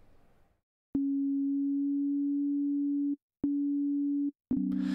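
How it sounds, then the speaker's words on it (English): Pure sine wave tones from oscillators in Ableton's Operator synth sound in three clean sustained notes, the first longest, the last with a second pitch added, each starting and stopping abruptly against silence. "turn up a couple of oscillators all on sine waves"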